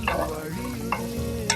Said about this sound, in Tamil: இது கொஞ்சம் சாஃப்ட் ஆகிற வரைக்கும் வதக்கிக்கலாம்